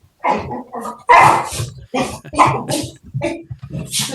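A dog barks several times indoors, in short, close bursts mixed with sniffing and snorting noises.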